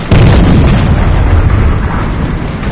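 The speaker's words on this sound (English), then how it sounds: "Gunshots." Loud, sustained barrage of booming gunshots and blasts in the video game Fortnite, dense and rumbling, tapering slightly toward the end with no voices.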